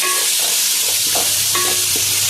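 Chopped tomatoes fry with fish curry masala in a pan, a loud, dense sizzle holding steady throughout, with a few soft stirring knocks and no talking.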